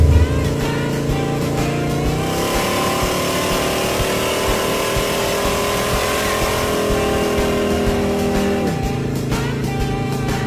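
A Chevrolet Impala, pushed hard like a race car at an NHRA drag racing event, holds a loud sustained engine roar with steady harmonic drone, a rise in pitch around two seconds and a drop near nine seconds.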